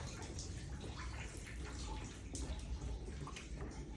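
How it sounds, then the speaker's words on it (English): Water runs down an interior wall during Hurricane Francine, a steady dense rushing and dripping wash that fills the whole clip without pause, with no voices. "water's starting to come down the wall."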